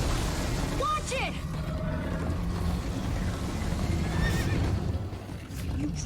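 A horse whinnies over a steady rumble of hooves and background noise in the video game Minecraft: Story Mode, with a second faint whinny later, while voices speak in the mix.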